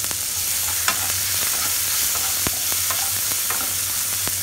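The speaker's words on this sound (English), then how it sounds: "Now in the same oil, put chopped onion or pyaz." Chopped onion in hot oil for a dhaba-style methi chicken curry, producing a loud, constant sizzle with sharp spoon clicks and scrapes scattered through it and no speech.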